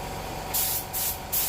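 Three short bursts of hissing paint spray from a spray gun at low air pressure over a constant loud compressor-like drone, each lasting a fraction of a second.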